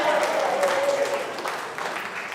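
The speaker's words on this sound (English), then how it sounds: "Can we give a round of applause for the women?" An audience applauds the Australian women's rugby league team, newly crowned World Cup champions. The clapping is a moderate, continuous patter with faint voices mixed in and no break.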